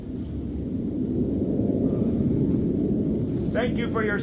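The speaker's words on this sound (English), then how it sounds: "Fighter jets." U.S. Air Force fighter jets roar overhead, a continuous loud rumbling drone held for several seconds, with a brief bird chirp rising above it near the end.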